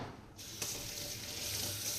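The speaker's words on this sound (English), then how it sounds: "Just rinse the fish off." Water runs steadily from a sink tap while a fish is rinsed, a close, continuous splashing stream with no talk.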